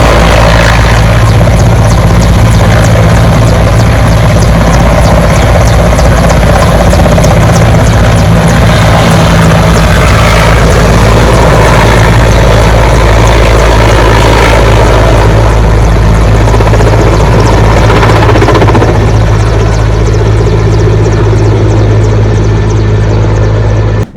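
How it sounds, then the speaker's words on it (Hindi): A Russian helicopter taking off from a farm field after an emergency landing and repair roars loudly and continuously, with deep rotor thumping and engine whine dominating the whole stretch. "उसके बाद वो हेलीकॉप्टर टेक ऑफ कर जाता है।"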